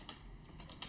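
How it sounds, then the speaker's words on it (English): A few light keystrokes on a computer keyboard, brief soft taps, faint and close with no talk. "So if I go to my VAT account, I type in general expenses"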